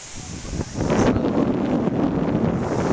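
Strong outdoor wind on a gusty day near a playground, a loud continuous rushing roar buffeting the microphone that swells after the first second and stays steady, with no voices.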